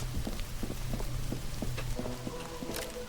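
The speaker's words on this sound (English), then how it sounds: "Okay, the rain goes down from here, but there's a little roof over here." Rain pattering steadily in the game Mind Over Magic, a dense wash of drops with scattered light ticks over a low hum, continuous and fairly close.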